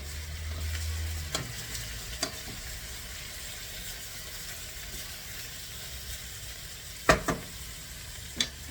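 Venetian-style liver and onions fry gently over very low heat, giving a soft, steady sizzle throughout with a few sharp clinks and stirring taps scattered across it.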